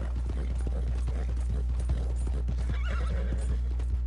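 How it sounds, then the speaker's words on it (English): A horse gallops in Red Dead Redemption 2 Online, its rapid hoofbeats clip-clopping steadily and close over a constant low rumble, with a brief whinny. "This horse is fast and smarticle."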